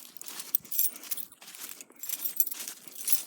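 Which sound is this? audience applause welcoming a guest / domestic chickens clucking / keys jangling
keys jangling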